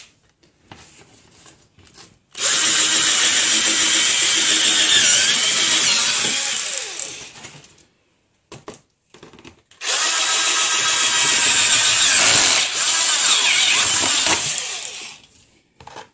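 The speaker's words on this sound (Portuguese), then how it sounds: "E agora eu vou começar a passar a broca escalonada." A power drill with a step drill bit boring through the car body of a Volkswagen Gol G2, two loud, sustained grinding runs of several seconds each separated by a short pause, close and alone.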